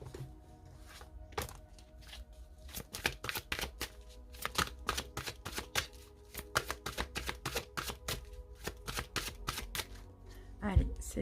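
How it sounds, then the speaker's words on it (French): Oracle cards are shuffled by hand, close and crisp, a long run of quick irregular riffles and slaps ending in a few firmer taps. "Je vais bien mélanger parce que ces cartes, je les prends à l'endroit et à l'envers."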